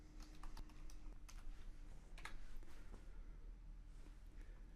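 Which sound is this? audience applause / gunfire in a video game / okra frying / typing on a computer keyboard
typing on a computer keyboard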